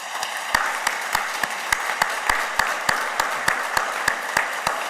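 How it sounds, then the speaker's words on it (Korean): A church congregation claps in unison, a regular sharp beat of roughly three claps per second that rides over softer scattered clapping at a fairly close, loud level. "우리 박수해 주시면 참 좋겠습니다"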